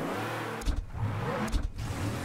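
A car engine in the racing-era game Mafia Definitive Edition revs up in two loud bursts, each surge rising and dropping back to a steady mid-pitched idle hum.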